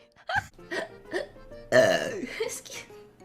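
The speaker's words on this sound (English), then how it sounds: "I feel a burp." A woman lets out several short burps in a quick series, followed by one longer, drawn-out voiced belch and a small trailing burp, loud and close with no other speech.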